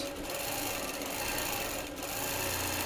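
A quilting machine stitching a curved teardrop pattern edge to edge across a quilt gives a steady, close, rapid mechanical buzz, alone and without pause, with a slight dip near the end.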